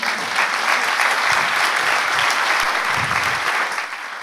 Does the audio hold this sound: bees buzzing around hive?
no